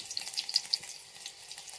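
Cumin, mustard seeds and garlic frying in a pan, a soft, close sizzle with light popping crackles that continues steadily without voices.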